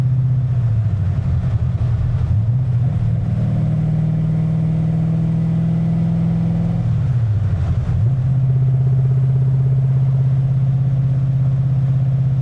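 A car with a Ford motor cruises at about 2,000 RPM, giving a steady droning engine hum inside the cabin that shifts slightly in pitch midway and otherwise stays constant and loud, with no talking.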